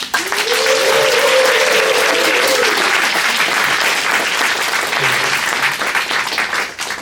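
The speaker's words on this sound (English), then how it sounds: "Please join me in giving a warm round of applause" Applause from a crowd at a Washington, DC commemoration event fills the room, a loud, sustained wash of clapping that continues steadily throughout, with a brief voice heard early on.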